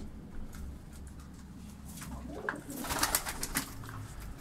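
Miro pigeons in a breeding loft give soft, low cooing close by, along with light fluttering and shuffling sounds.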